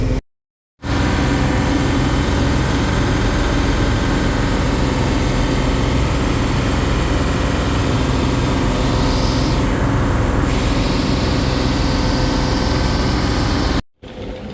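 Steady low engine drone of a sundeck river launch ferry travelling from Shariatpur to Narayanganj, a continuous heavy rumble with no talk, running unbroken for most of the stretch.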